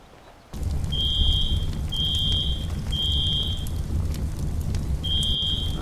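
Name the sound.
fire alarm ringing in video game FiveM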